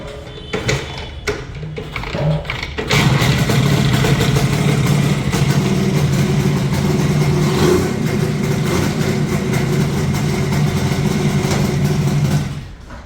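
A 1991 Rajdoot motorcycle engine is kicked or cranked a few times, then catches and runs steadily at a loud, close idle.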